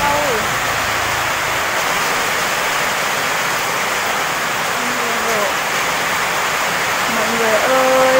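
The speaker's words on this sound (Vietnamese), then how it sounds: "Trời ơi, mưa rồi" Steady rain pours down in a dense, even hiss that holds throughout, with a few faint voices speaking over it.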